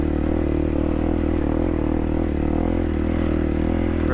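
Dual sport motorcycle grinding slowly up a steep, rocky trail in first gear, its engine giving a steady low, loud drone with rhythmic pulsing and faint clatter of loose rock, continuous throughout.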